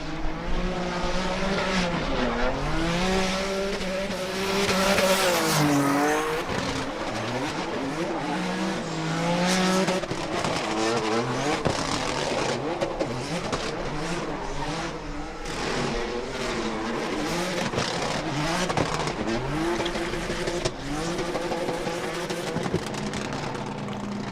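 A Toyota Gazoo Racing 86 drift car with a turbo V6 from an FJ Cruiser roars and revs hard at a Formula Drift Pro event in Seattle, with tires squealing through a long, loud, continuous slide.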